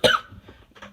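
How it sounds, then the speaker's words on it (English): A single sharp, close cough from a man, loud at the start and trailing off into quieter breathy throat noises. "God, how many times am I going to cough this episode?"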